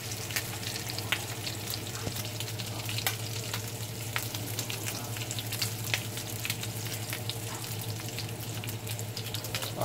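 Bacon fries in a pan with a dense, steady sizzle and crackle that runs unbroken at moderate loudness, with a faint hum underneath and no talk.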